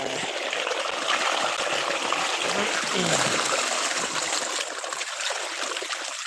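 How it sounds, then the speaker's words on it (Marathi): Steady, fairly loud rushing of flowing water fills the whole stretch, a constant broadband wash with no pauses. "आवाज येत असेल तुम्हाला पाण्याचं भरपूर"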